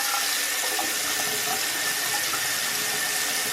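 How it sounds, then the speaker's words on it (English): Water from a bathroom sink running out after the stopper is released, a loud continuous hiss and rush of liquid with no voices. "I'll just release the stopper and let the water out"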